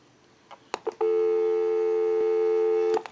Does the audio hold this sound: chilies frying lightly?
no